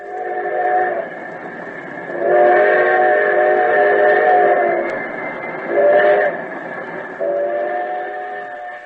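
A steam locomotive effect for a comedy radio play, with a sustained whistle-like tonal chord over rumbling rail noise that swells loudly twice, alone and fairly close.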